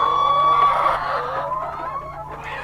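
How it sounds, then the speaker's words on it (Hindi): Several chickens cluck and murmur close by on a poultry farm in a steady stream, with a higher squawk or two mixed in and no talking. "ये मुर्गी बंद है"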